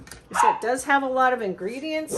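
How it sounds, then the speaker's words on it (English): Pet dogs yip and bark intermittently in the background of a home kitchen while they play, partly under a voice. "Excuse my dogs in the background."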